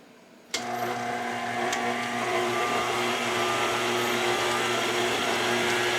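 A stand mixer creams butter for strawberry shortcake gooey butter cookie dough, starting abruptly after a moment of quiet into a steady, close motor whir with a constant tonal hum that holds unbroken throughout.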